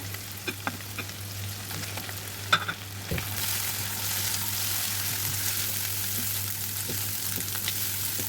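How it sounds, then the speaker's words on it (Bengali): Fish roe frying with onion paste in a pan: a few sparse scrapes and clicks at first, then a dense, loud sizzle that swells and holds steady, with a low hum underneath and no talking. "এরপরে পেঁয়াজ বাটা দিয়ে একটু মাছের সাথে ভালো করে মিশিয়ে নিয়ে ভাজি করে নিলাম"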